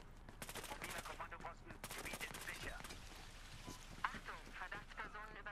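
Rapid bursts of gunfire rattle through a busy Battlefield Hardline game soundscape, with brief pauses and shifting effects in the background.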